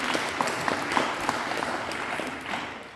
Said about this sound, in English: let's all give her a clap